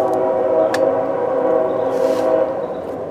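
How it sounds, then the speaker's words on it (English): A train rolling through woods roughly a quarter mile off, its horn held in one steady chorded blast over a continuous low rumble, distant but clear, with faint clicks and rustles nearby. "we'll let the train come through while I'm talking"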